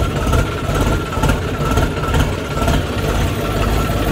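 A tractor engine runs steadily close by, a loud low throbbing chug that holds an even idle rhythm throughout.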